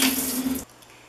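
Warm water runs from a sink tap in a steady, fairly loud hiss that stops abruptly partway through, leaving a quiet room.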